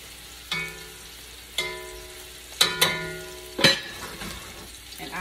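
Cabbage frying and wilting down in a pan, a constant sizzle broken by several sharp metallic clinks and scrapes of a utensil against the pan, close up.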